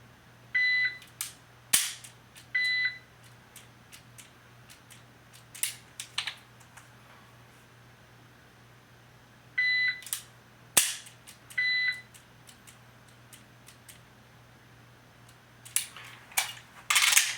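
Dry-fire practice with a handgun held in the support hand only, heard as sparse, sharp trigger clicks spaced several seconds apart, each followed by faint small handling clicks, close by in a quiet room with a low steady hum.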